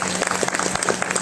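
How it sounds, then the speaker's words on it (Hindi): A crowd breaks into brief, dense applause for Mrs. Pranita, many hands clapping together at close range for just over a second. "एक बार उनके लिए जोरदार तालियां हो जाएं।"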